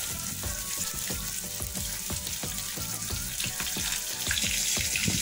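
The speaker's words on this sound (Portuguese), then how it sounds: "Vou tirar aqui e vou acabar de fritar tudo" Fish pieces fry in hot oil, a dense bubbling sizzle with rapid crackling pops and a few soft clinks, close and steady throughout, no speech.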